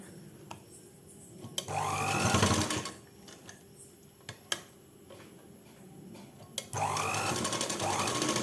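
A sewing machine stitches a churidar pant in short bursts, whirring loudly for a second or so, pausing, then running again, with light clicks between runs.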